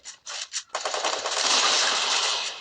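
Rapid automatic gunfire from a video game, a few short bursts followed by a sustained loud stream of shots scoring headshots, close and dense with no talking.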